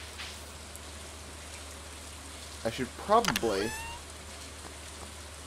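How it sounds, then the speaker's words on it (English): Rain falling in the video game Stardew Valley, a soft steady patter throughout with a person briefly talking over it partway through. "since it is raining"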